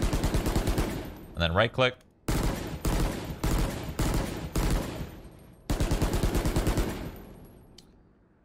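A budget rifle fires in a video game, loud close bursts of rapid automatic shots separated by short pauses, with a brief voice speaking between volleys.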